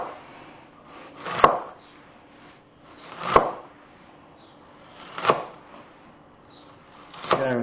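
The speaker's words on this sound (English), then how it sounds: "then we're just going to slice side to side. So we're going to make little diced cubes" A kitchen knife cuts through an onion for chili con carne on a cutting board, giving four distinct, close thuds spaced about two seconds apart with quiet gaps between.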